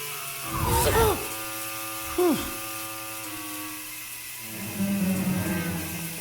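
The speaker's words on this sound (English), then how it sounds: "let's go ahead and vacuum up the shower curtain" A game vacuum in Luigi's Mansion 2 HD sucks up a shower curtain with an electric whirring drone, pitched sweeps and chirps over a continuous hum, heard near and moderately loud.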